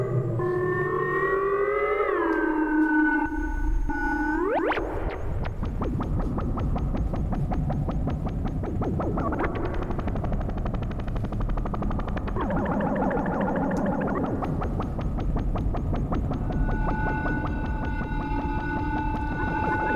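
Korg Volca Modular synth drone routed through a Neutron delay, a loud continuous wash of sweeping, gliding tones with dense repeating echoes and shifting pitches, sustained throughout with no talking.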